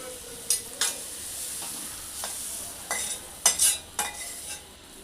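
Young jackfruit, fried until reddish, sizzling in a pan with a soft continuous hiss and several sharp scraping clacks of a spatula, close and fairly quiet.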